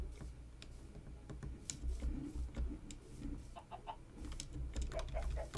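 Chickens cluck in short scattered bursts in a Minecraft farm scene, set over a low steady background hum, with a few sharp clicks mixed in.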